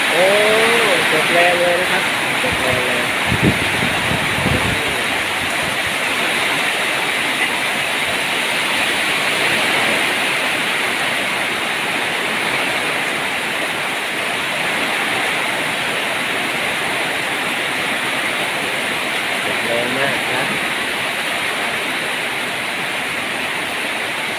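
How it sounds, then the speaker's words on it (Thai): Heavy rain pours steadily through the night with a dense, even hiss that never lets up, close and loud, while a voice speaks briefly near the start and again around the twenty-second mark. "คืนนี้ฝนตกหนักมากครับ"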